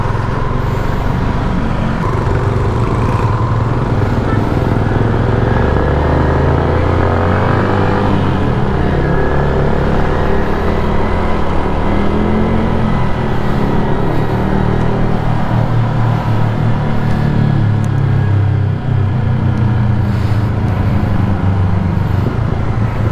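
A motorcycle engine in a video game drones steadily throughout, a loud continuous low rumble with a road-traffic wash around it and no talk.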